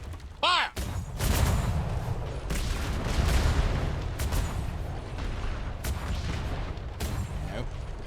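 A ship's port-side cannon barrage booms in a pirate-era roleplay game, with a string of broadband blasts rolling one into the next under a steady wash of battle noise, while a voice speaks briefly near the start.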